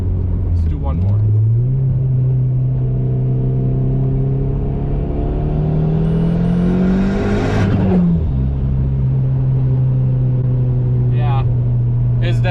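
Tuned turbocharged car engine with a new ECU, revving hard through second gear as a loud, rising roar that climbs steadily to a peak around eight seconds, cuts sharply, then settles into a steady drone; brief voices and pops at the edges.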